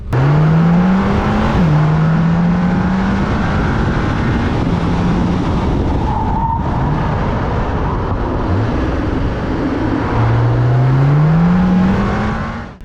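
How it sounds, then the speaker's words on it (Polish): A Mercedes car drives steadily at about 70 km/h during a driving-school braking exercise, its engine and road noise loud and continuous with a few rising and falling pitch shifts throughout, no voices. "70 km na godzinę, Mercedes przy 70."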